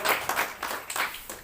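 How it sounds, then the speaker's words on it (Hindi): A small group claps for a woman at a branch meeting in Dhanbad, with a few quick bursts of hand claps in an uneven rhythm, close and moderately loud, fading by the end. "जोरदार ताली।"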